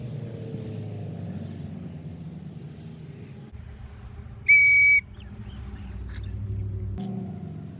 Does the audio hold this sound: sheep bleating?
no